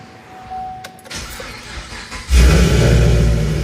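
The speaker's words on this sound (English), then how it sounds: "You're gonna start your car." A 5th gen Chevrolet Camaro from the 2010-2015 years cranks after a few faint clicks and whirs, then catches and settles into a loud, steady idle close by with no talking.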